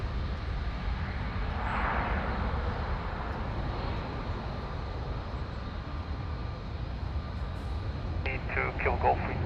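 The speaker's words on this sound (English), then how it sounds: "Wow, nice short takeoff." An airplane taking off at Lisbon Airport, a broad steady engine roar that holds throughout, with a radio voice and beeps breaking in near the end.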